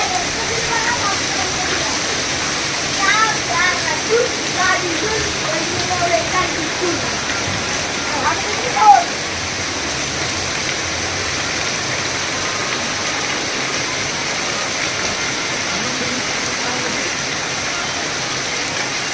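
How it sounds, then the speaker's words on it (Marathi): Steady heavy rain roars throughout, with a low rumble under it and a few brief voices partway through. "मोठा पाऊस आला एकदम तिथं मोठा पाऊस"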